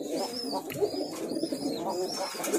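Fancy Red Mukhi pigeons coo softly and repeatedly at close range, their low burbling calls overlapping with faint chirps from other birds nearby.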